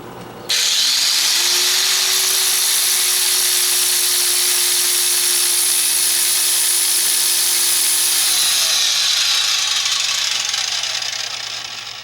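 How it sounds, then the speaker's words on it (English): An angle grinder fitted with a sandpaper flap disc grinds on metal tie-rod parts for a small cart, a loud, steady high-pitched whine and abrasive hiss running continuously for about eight seconds before spinning down. "I'm going to use my grinder with a sandpaper flapper disc on it"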